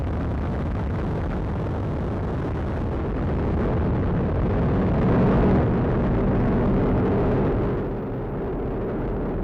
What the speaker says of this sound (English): Liftoff of the United Launch Alliance Atlas V rocket carrying the NROL-52 mission for the National Reconnaissance Office.